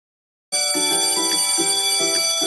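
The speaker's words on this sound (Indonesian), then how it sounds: "bunyi bel menandakan jam istirahat sekolah" A school bell rings for break time, starting suddenly and sounding as a loud, continuous, bright electric ring with a slight pulsing tremble. It carries on steadily to the end with no voices.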